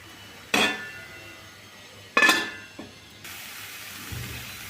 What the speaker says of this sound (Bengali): এখন এটা আমি ঢাকা দেব আর মাঝে মাঝে ঢাকাটা খুলে একটু নাড়িয়ে দেব